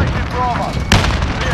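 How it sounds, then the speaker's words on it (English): A sharp airstrike explosion in Call of Duty: Modern Warfare, a sudden loud blast partway through over busy game noise, with a player's voice talking in the background. "Got my airstrike in the middle."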